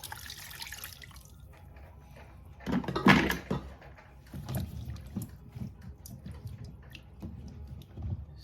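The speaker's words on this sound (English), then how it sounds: "Then we just fill it up with water. Just normal water, room temperature." Room-temperature tap water runs into a container for soaking cassava to make fufu, a soft steady trickle with a louder splashing burst partway through and scattered drips and knocks.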